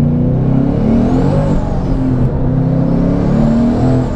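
A 700hp Ford Mustang GT accelerates up a highway on-ramp, its engine roaring loud and close from inside the car, pitch rising and falling through gear changes without pause.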